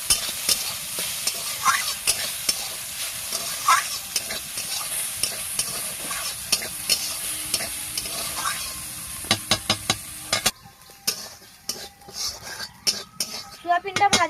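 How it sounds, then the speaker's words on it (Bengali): Boiled soybeans frying in hot oil in a pan, with a steady sizzle and repeated scraping and clinking as a spatula stirs them, the hiss dropping away toward the end while the stirring clatter continues. "এবার সেদ্ধ করে রাখা সোয়াবিনগুলো এর মধ্যে দিয়ে দেব। দিয়ে এগুলোকে ভেজে নেব।"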